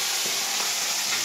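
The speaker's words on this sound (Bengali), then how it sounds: "তেল গরম হয়ে গেছে, এবার আমি মাছ ভাজবো।" Fish frying in hot oil in a home kitchen, a loud dense close-up sizzle with continuous bright crackling and spitting.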